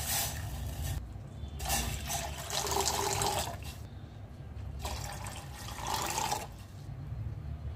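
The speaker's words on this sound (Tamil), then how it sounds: "3 கப் அளவுக்கு தண்ணி ஊற்றிட்டு" Water poured into a cooking pot to heat for the dough of sweet-filled kozhukattai dumplings, heard as two or three bursts of splashing, rushing liquid, fairly close, with no talk over it.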